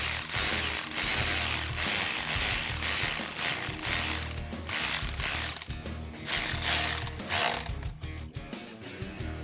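Ratchet with an 8mm socket tightening a hose clamp on the intake tube of a 2019-2022 Silverado/Sierra 1500 5.3L during a cold air intake install, giving steady rapid clicking that runs nearly continuously and close up.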